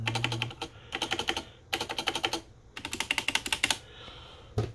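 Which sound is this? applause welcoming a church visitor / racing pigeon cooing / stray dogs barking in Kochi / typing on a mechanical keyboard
typing on a mechanical keyboard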